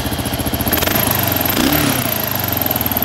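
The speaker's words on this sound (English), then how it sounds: "This bike runs very well." A 2006 Kawasaki KLR650 dual-sport motorcycle's single-cylinder engine runs steadily nearby, a loud, even putter with a rapid regular pulse and a brief slight rise in revs partway through.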